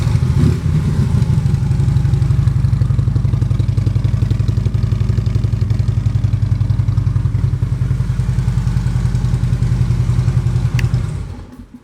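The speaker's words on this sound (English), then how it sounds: "Previous owner put a nice set of Reinhardt slip-ons on so you can enjoy an excellent sound and not have to pay for it" A 2016 Harley-Davidson Road Glide with Reinhardt slip-on exhaust idles loudly up close, a deep, steady, lumpy rumble that holds for several seconds before the engine cuts off.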